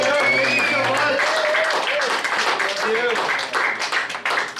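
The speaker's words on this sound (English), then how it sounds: "How about a round of applause for your bartenders?" A comedy club crowd at a saloon breaks into applause, a dense wash of clapping that stays loud throughout with some tonal background sound mixed in.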